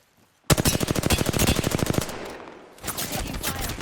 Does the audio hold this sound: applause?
no